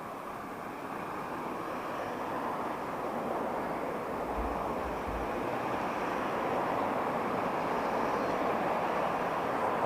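A DHL aircraft taxis at Heathrow Airport, a steady, distant broadband engine roar and whine that swells gradually over the stretch, with no voices.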